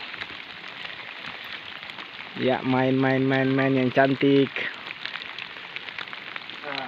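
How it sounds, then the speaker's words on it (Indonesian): Rain falls steadily on a riverside estuary fishing spot, a constant hiss running the whole way through while a voice talks over it in the middle. "Hujan-hujan."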